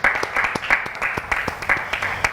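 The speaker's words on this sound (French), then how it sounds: "On accueille Madame Tissia sous vos acclamations, s'il vous plaît." An audience claps to welcome a guest at an event, a brief burst of close, steady applause from a modest crowd.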